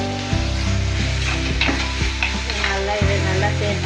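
Tomato and garlic sauté in a pan for prawn gravy, with a steady sizzle and a spoon scraping and stirring in several distinct strokes, close by and with no talking.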